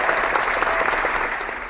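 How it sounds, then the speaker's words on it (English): A burst of crowd applause from a podcast soundboard, dense steady clapping that fades slightly toward the end. "Get that man his applause."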